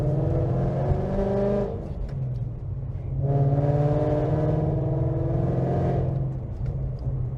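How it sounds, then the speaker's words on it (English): A car drives around in circles, its engine humming steadily up close, with two rising swells of revving as it accelerates through the turns. "I'm just driving around in circles."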